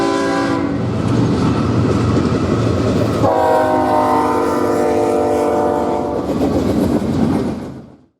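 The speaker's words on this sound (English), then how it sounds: "6857 passed, BNSF 4266, an S train, rolls by. This train is going about 60 miles an hour" BNSF freight train with locomotive 4266 roaring past at about 60 mph on the Southern Transcon, loud and close, with wheel clatter throughout and two long blasts of the horn before the sound fades out at the end.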